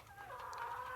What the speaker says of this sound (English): Why does it sound like the chickens are dying?